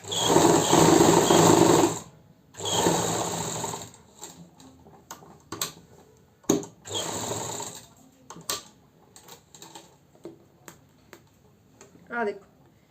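A sewing machine stitching a seam on palazzo pants gives two loud, sustained runs of rapid whirring. Shorter clicks and mechanical ticks follow, with a voice speaking intermittently toward the end.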